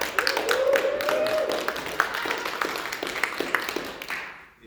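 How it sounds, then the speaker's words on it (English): An audience at an International Women's Day gathering claps steadily for several seconds, a single voice rising briefly over the applause before it thins out and fades away. "So give yourselves a round of applause."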